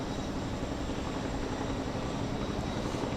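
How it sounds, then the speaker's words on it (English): Helicopter hovering over the Columbia Canal while ferrying one-ton sandbags for dam repair, a steady, dense rotor and engine roar that holds constant throughout, with no breaks or voices. "The helicopter here is bringing over sandbags, a sandbag."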